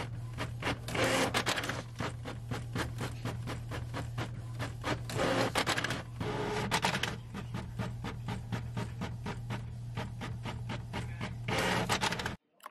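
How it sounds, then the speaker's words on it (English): A home printer runs steadily while printing planner inserts, its mechanism humming with repeated rhythmic scraping and shuttling passes for about twelve seconds before it stops abruptly. "as I was printing and cutting"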